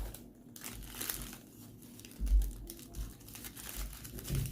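Mullein material is folded into a pouch with soft, close crinkling and rustling, slow and irregular, with occasional firmer creases and handling thumps.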